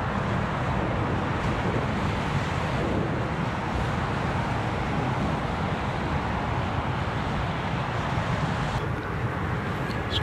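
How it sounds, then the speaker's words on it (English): Strong, steady headwind roars across the microphone of a rider on an electric unicycle, a dense, continuous rush of wind noise that lasts throughout with no other sound standing out. "Got a very, very stiff, directly in our face headwind right now."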